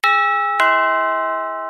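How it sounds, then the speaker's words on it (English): A doorbell rings out two clear, loud ding-dong chime tones, the second note following about half a second after the first and both left to ring and fade slowly in otherwise silent air. "What's that you say? A ding dong?"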